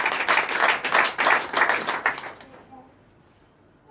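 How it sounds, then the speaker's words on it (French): A congregation at a night prayer service bursts into clapping in uneven, rhythmic waves for a few seconds, then the applause quickly fades out into near silence. "Donnez l'acclamation à ce frère."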